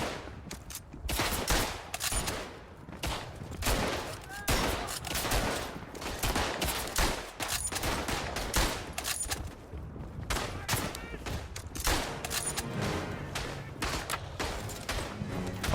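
Dense, sustained gunfire from the World War I shooter game Verdun, rapid overlapping shots and volleys crackling continuously across the whole stretch at a steady, loud level with no talk.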